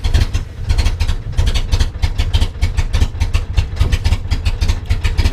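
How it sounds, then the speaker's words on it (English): A 1954 Triumph TR2 roadster's engine idling nearby without throttle, a loud, even rhythmic chug of regular firing pulses that continues steadily throughout. "right now I'll just start it real quick for you"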